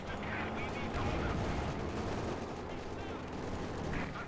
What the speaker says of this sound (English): Machine gun forwards here.